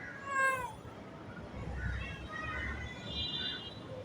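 A kitten gives a clear, high meow near the start, followed by fainter, thinner mewing calls later over quiet background noise.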